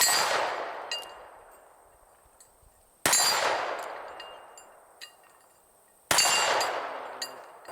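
Three separate handgun shots from a .38 Special and a .357 Magnum strike a steel plate, each giving a sharp crack and a ringing metallic clang that decays slowly, with roughly three seconds between shots and faint small clinks in the gaps.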